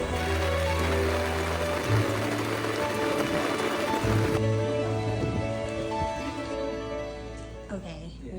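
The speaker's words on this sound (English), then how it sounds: "Wow, it's raining really hard." Heavy rain pours onto the cover of a boat on a lake, a dense, steady drumming patter close overhead that runs throughout, with occasional low thuds and a voice briefly speaking beneath it.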